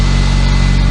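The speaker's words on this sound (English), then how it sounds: "That's a Honda GX360 K1, 13 horsepower, overhead cam, not overhead valve, liquid cooled inline 2." A Honda GX360 K1 13-horsepower liquid-cooled overhead-cam inline twin engine runs at a steady idle, a loud continuous low rumble with even pulsing and no voices.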